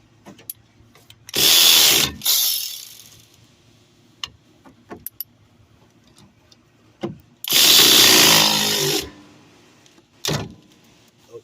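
A power tool runs the bottom bolts tight on the rear brakes of a 2021 Toyota Camry, firing in loud close bursts of one to two seconds with quiet gaps and short clicks between, no talk.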